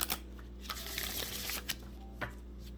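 Large tarot-style reading cards being shuffled by hand, a continuous soft riffling and sliding with a few sharper slaps, fairly close over a low steady background hum.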